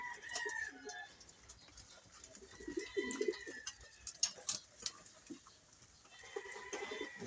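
Pigeons coo softly in a loft or coop, a low, fairly faint murmur of repeated cooing with occasional wing or movement noises and some bird calls in the background.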